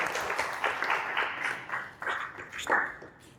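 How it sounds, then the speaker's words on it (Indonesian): A classroom group gives a short, faint round of applause in scattered bursts of clapping that gradually thin out and fade. "Beri tepuk tangan untuk Nurul."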